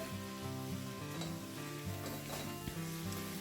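Tomatoes with salt sizzle in a pan for egg curry while a spoon stirs through them, a steady close frying hiss with scraping and rubbing strokes and no voices.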